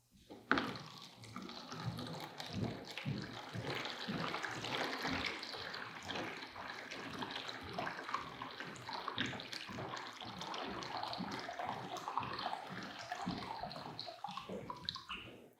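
Hot water poured into a container holding a model ocean in a climate change lab demonstration, a steady close splashing pour that runs for most of the stretch with no talk over it.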